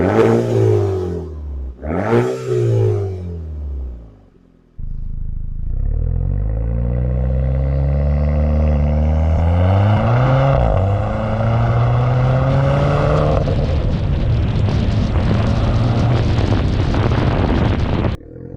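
A turbocharged 4-cylinder engine in a B8-generation Audi A4 revs up loudly after two short blips, its pitch climbing and then holding at high revs for over ten seconds, close and alone.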